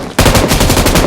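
Rapid automatic gunfire from the video game PUBG Mobile bursts in after a brief quiet start, a loud, steady stream of closely spaced shots lasting about a second.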